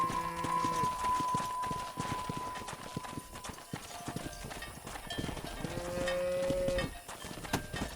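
Cattle being herded from horseback in the Western video game Red Dead Redemption: steady clip-clopping hooves and trampling livestock with occasional cow moos, continuous under soft background game ambience.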